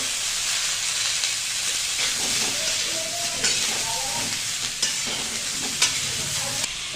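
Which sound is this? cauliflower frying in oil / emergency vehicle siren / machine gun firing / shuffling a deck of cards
cauliflower frying in oil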